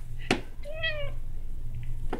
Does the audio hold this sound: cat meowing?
yes